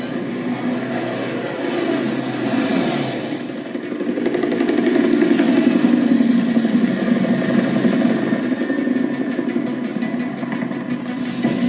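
An aircraft engine starting in Call of Duty: Modern Warfare 3 drones steadily, building in intensity midway into a loud, sustained propeller-like hum with a buzzing edge.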